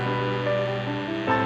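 A steady electric fan hum with a faint grinding whine from a worn bearing, droning continuously up close for a moment without any voices.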